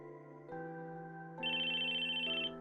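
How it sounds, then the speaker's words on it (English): A phone ringtone from a visual novel game, Chaos;Child, plays a clear electronic melody of sustained tones that step upward in pitch, loud and alone for a few seconds. "Suddenly his phone began to ring."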